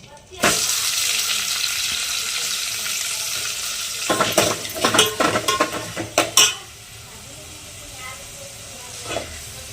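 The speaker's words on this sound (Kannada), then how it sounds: "ಒಂದೆರಡು ಎಸ್ಲು ಕೊತ್ತಂಬರಿ ಸೊಪ್ಪು ಒಗ್ಗರಣೆ ಹಾಕ್ತೀನಿ" Hot oil sizzles and hisses steadily, with a burst of sharper crackling and spattering midway as curry leaves and coriander leaves hit the pan for tempering, then settling back to a soft fry.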